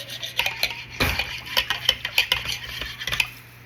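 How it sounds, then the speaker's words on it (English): Sourdough discard and yeast stirred together in a bowl, a close run of quick clinks and scrapes of a utensil against the bowl with soft wet mixing between strokes. "Mix it around really well."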